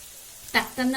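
Raw oil drizzled over dry vegetables frying in a pan for Khandeshi chivlachi bhaji, a brief close hiss and sizzle that flares up twice in quick succession.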